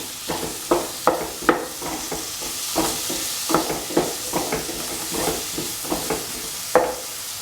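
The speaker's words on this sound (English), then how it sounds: "Keep on sauteing" Crushed tomatoes and taro with salt sauteing in a pan, a steady soft sizzle broken by repeated stirring scrapes and clatters at an uneven rhythm, close and moderately loud with no talk.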